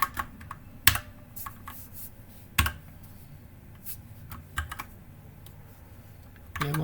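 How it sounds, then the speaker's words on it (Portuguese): Keystrokes of JavaScript code being typed on a computer keyboard, a quiet irregular run of soft clicks with a few sharper, louder taps spread through the stretch, and no voice over it. "Eu vou digitar alert."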